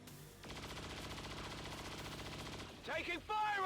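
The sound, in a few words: gunfire in XCOM 2 Long War of the Chosen video game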